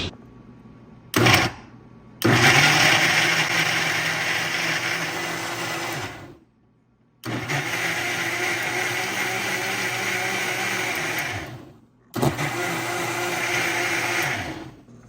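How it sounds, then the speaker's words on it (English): A kitchen blender purees homemade pasta sauce made with vegetables and milk in three loud, steady whirring bursts, with brief pauses between runs and no talking. "This is our blended pasta sauce."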